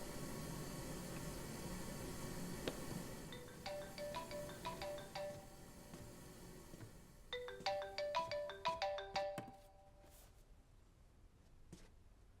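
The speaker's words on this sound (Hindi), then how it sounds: "तुम्हारा फोन बज रहा था।" A phone ringtone plays two clear bursts of bright melodic tones over steady background noise, with a pause between them. The ringing stands alone without any talk.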